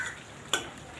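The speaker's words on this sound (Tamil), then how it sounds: "பாருங்க எப்படி கொதிக்குது." Egg gravy simmering in a pan, a soft steady bubbling and sizzle heard close up, with a brief sharp clatter partway through.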